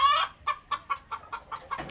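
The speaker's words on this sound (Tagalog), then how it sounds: "At ayun po yung inahin, ang ingay." A hen clucks repeatedly in a quick, close series of short, bright calls, with nothing else heard.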